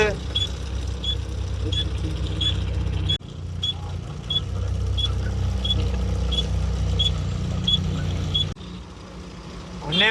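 Road traffic around a truck stuck in a jam on a main road and service road: a steady low engine rumble fills the scene, with regular faint reversing-style beeps repeating and a few sharp air-brake hisses, while someone talks over it.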